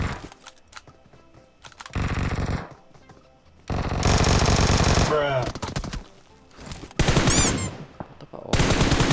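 Video game gunfire in rapid automatic bursts, loud and close, alternating with quieter gaps, with a sharp whistling sweep partway through and a voice talking briefly between volleys.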